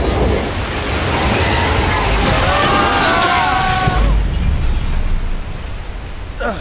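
Thief's Downfall waterfall in a Harry Potter video game, a loud steady rush of falling water that fills the scene, with thin sweeping tonal chimes partway through before the roar thins and shifts near the end.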